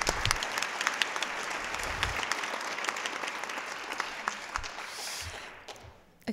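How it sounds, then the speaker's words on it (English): An audience at a women's achievement awards event breaks into sustained applause, a dense wash of many hands clapping that holds steady and then tapers off near the end. "Can we give them a round of applause for having this event?"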